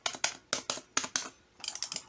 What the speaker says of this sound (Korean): 딸깍거리는 이 소리가 나는 게 좋더라고요